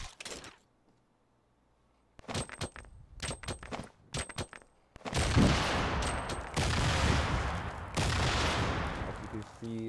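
Grenades going off in a video game, a run of sharp blasts and crackling bursts in clusters after a quiet start, with dense loud explosive rumble filling the latter half.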